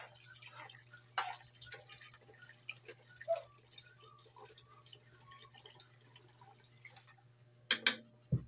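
Water poured and dripping into a pan while cooking pancit, soft trickles and small splashes over a steady low hum, with a few louder clatters near the end.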